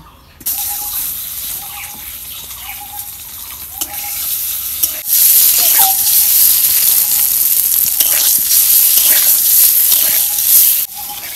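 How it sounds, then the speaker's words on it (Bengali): Eggs sizzle in a hot pan, the hiss swelling louder halfway through, with a few utensil taps and scrapes over the steady frying noise. "ডিমগুলা আমি এখন ভাইজা নিব"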